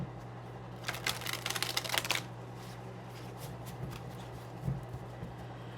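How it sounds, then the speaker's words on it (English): Tarot cards are shuffled by hand in a quick riffling burst lasting about a second, then a quieter pause with a soft single tap of the deck afterward. "Got to do one of these kind of shuffles."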